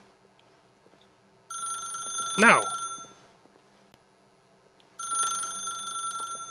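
A telephone rings in The Stanley Parable video game, one long electronic bell burst with a louder clatter midway, then silence before a second ring starts near the end.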